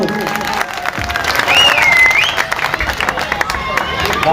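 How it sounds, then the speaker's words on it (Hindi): A crowd at a ward election campaign meeting in India applauds continuously, with sustained clapping over a murmur of voices and a brief whistle-like tone. "उनका खैर मकदम को तालियों के साथ स्वागत करें सब लोग।"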